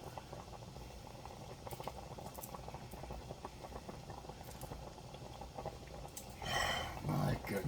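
Tomato sauce bubbles in a pot with the lid off, a continuous close, soft burbling boil with small pops, ending in a louder burst of rustling and clatter.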